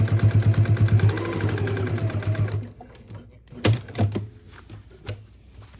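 Sewing machine stitching over a zipper, a fast rhythmic run of needle strokes that strains and slows, then stops and gives way to scattered clicks and handling knocks nearby.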